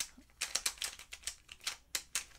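A QiYi twisty puzzle being turned by hand gives a rapid run of sharp, crisp clicks at an uneven rhythm. The sound is close and moderately quiet, with no one speaking.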